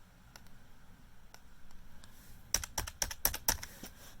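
A few faint keystrokes, then a quick burst of crisp, close computer keyboard typing clicks in the final two seconds, with no talking.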